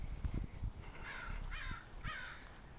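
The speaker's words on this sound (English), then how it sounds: "There's some crows." American crows (Corvus brachyrhynchos) cawing in a San Diego park near eucalyptus woods, three harsh caws spaced about half a second apart at moderate distance, over low rumbling handling noise.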